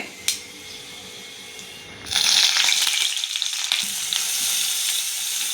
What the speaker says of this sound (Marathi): मिरची आणि कांदा मी आता फोडणीला घालते